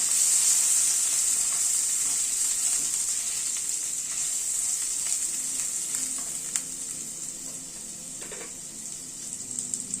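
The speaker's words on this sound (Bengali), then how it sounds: "আলুটাকে আগে একটুখানি ভেজে নিচ্ছি।" Boiled potato pieces frying in hot oil in a pan make a constant, bright sizzle, with a few soft stirring clicks and scrapes near the end.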